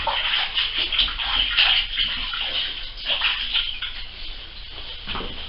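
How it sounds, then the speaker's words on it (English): Hands being rinsed under a running tap in a kitchen while making a game terrine, a steady close splash and patter of water that carries through without speech. "Let's wash my hands."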